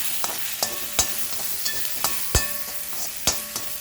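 Ganike greens (kachi soppu) sauté in a pan with asafoetida, chili and ginger: a soft sizzle runs under regular, sharp scraping stir strokes about every half second, close up and without talk.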